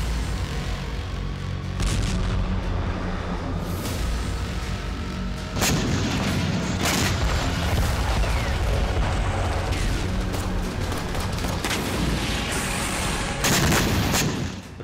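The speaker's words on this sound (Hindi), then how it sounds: "इसी धमाके से नष्ट कर दिया।" A continuous barrage of heavy booms and blasts from a 500-kilogram bomb strike on Khmelnytskyi, Ukraine, with repeated sharp impacts rumbling loudly through a dense, noisy background.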